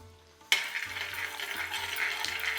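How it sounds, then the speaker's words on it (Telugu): Chopped almonds and cashews hit hot fat in a pan with a sudden burst, then fry in a steady, dense sizzle, close and fairly quiet with no voices. "వీటిని కూడా మంచి కలర్ వచ్చేంత వరకు వేగనివ్వాలి"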